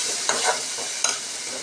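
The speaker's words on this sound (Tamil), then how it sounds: "நல்லா பச்சை வாசனை போகிற வரைக்கும் கிண்டிடுங்க" Steady sizzle of spices frying in a pan for a meatball curry, with a few scraping stirs of a spoon cutting through the hiss.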